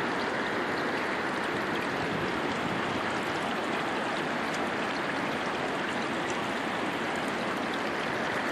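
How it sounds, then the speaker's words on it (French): Water of the Djoué river rushing and escaping at its mouth in Brazzaville during the dry season, a steady, broad, continuous roar of flowing water, close and even throughout with no voices. "l'eau qui s'échappe un peu de partout"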